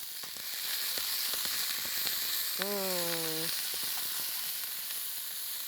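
Food sizzling in a pan while being stirred, an even close hiss with light scraping taps, joined briefly by a short tonal squeak or whistle midway, with no speech.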